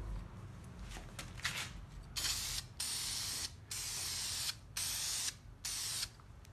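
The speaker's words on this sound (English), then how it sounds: "just like any other rattle can, shake it up. And you just put a light first coat on, so just a tack coat" Spray paint from a shaken rattle can laying a light tack coat on chassis, suspension and roll bar parts: four or five distinct loud bursts of hissing spray, each about half a second long, separated by short pauses, close to the mic.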